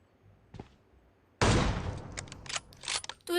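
Gunfire in a shooter video game during a killing spree: a faint early pop, then a sudden loud burst of rapid shots followed by several more sharp reports, close and punchy.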